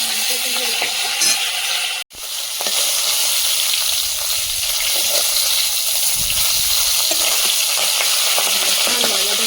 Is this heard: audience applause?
no